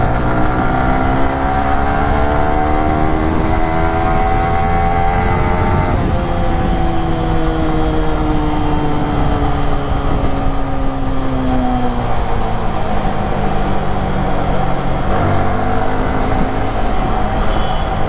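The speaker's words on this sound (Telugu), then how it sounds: "సో బైక్ సౌండ్ అయితే వింటారా?" A Yamaha R15 V3 sports motorcycle engine runs loud and close for a long stretch, its pitch climbing and falling in repeated revs.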